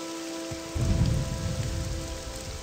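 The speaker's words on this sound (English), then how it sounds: "Gonna try waiting until this rain passes." Rain falls steadily in the fantasy role-playing game Morrowind, a constant close hiss of drops that thickens into a heavier patter after a brief quieter moment.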